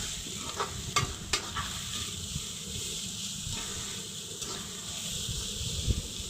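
Onions with salt are stirred in a hot pan for a kesari punukula curry, a steady loud sizzle and hiss running throughout with occasional scraping strokes of the spoon.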